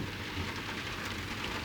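Steady thunderstorm downpour with rain and hail pounding outside a camper van in Spain, a dense, continuous hiss with low rumbling underneath and no voices.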